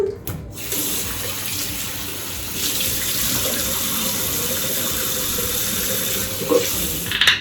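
Tap water runs in a steady, loud stream while hair is washed under it, the splashing holding constant for several seconds with a brief pause near the start and a laugh near the end.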